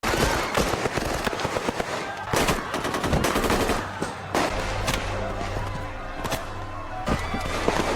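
Bursts of automatic gunfire during a terrorist attack in a movie scene, rapid loud volleys with sharp individual shots and impacts repeating throughout, close and dense, with some voices mixed underneath.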